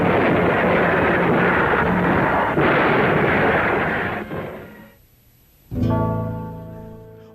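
World War II guns firing at night make a loud, dense, continuous roar of heavy fire that sweeps on, then briefly drops away before a sharp burst returns with ringing tonal layers.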